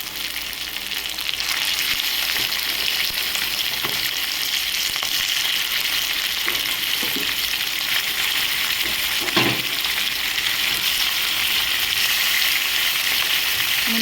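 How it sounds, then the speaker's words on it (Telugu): Chicken pieces hiss and sizzle in a pan of fried ginger paste, a loud steady frying noise with a few sharp clinks of stirring partway through. "ఇప్పుడు చికెన్ ముక్కలు ఇందులో వేసేస్తాం."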